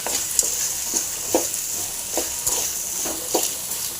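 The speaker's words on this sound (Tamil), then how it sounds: "உப்பு போட்டு அது கூட சேர்த்து நல்லா ஃப்ரை பண்ணிங்க" Pirandai (adamant creeper) mixture with salt fries in a pan, a steady sizzle broken by regular, sharp stirring scrapes and taps about every half second.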